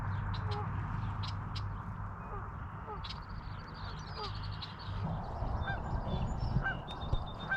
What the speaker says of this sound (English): Two Canadian geese are in the water.